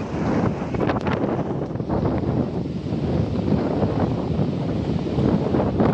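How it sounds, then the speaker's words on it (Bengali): Strong seaside wind buffets the microphone on a path along the shore, a loud continuous low roar with gusty surges, and no one speaks. "প্রচন্ড হাওয়া হচ্ছে, কথা ভালোভাবে বোঝা যাচ্ছে না"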